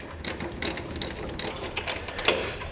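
Close ratchet wrench clicking in short bursts while unbolting a steering part on a Craftsman 917 lawn tractor, quick pawl ticks separated by brief pauses.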